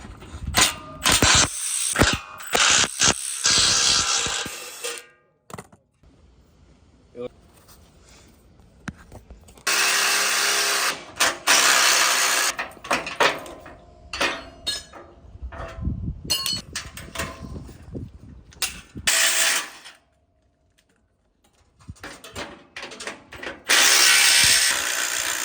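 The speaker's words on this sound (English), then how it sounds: "So we'll literally just go around and unbolt all these crossbars" A ratchet unbolts the crossbars of a rusty boat trailer, with repeated bursts of rapid pawl clicking separated by pauses and a few louder, busier stretches, close and clear with no talk.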